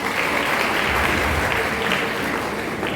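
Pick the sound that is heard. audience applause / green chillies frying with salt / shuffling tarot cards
audience applause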